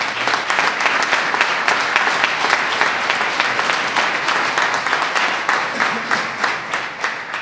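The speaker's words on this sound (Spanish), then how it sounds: "nos merecemos todos un aplauso como alcazareños" Dense, steady applause fills a carnival opening speech hall in Alcázar, many hands clapping close and loud for the whole stretch, with no talk over it.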